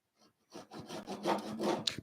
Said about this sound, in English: Pull saws by far for me are the best way to go here.